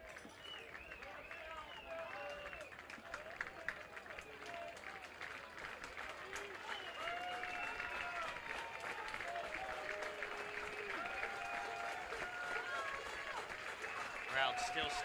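A baseball crowd at a Southern Maryland Blue Crabs home game rises to its feet applauding, sustained clapping and cheering that swells toward the end while an announcer talks over it.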